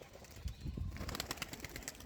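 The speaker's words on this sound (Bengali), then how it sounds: "তো পায়রাগুলো ছাড়ছি" Domestic high-flyer pigeons released to fly, their wings flapping in a soft, close flurry along with a few faint bird calls in a quiet outdoor setting.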